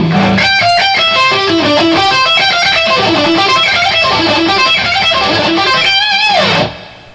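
Electric guitar plays a long, fast picked run of single notes in steady succession, loud and close, ending abruptly with a brief sliding note.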